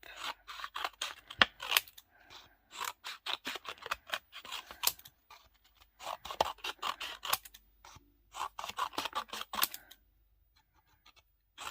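Scissors cut through paper in quick bursts of crisp snips and rustles, repeated in uneven rhythm with short pauses, close and fairly quiet, with no voices.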